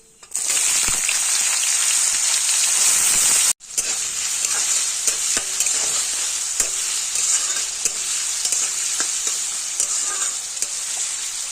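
Chopped carrots being stirred and fried in a pan for Kashmiri dal: a loud, continuous close sizzle with a brief break partway through, then sizzling again with light scraping of the spatula.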